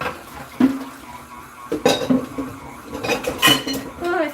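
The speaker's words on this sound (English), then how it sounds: "Let me wash out a bowl here." A mixing bowl being washed out in a kitchen sink: clanking and scraping of the bowl against the basin mixed with splashing water, loud and close in short bursts.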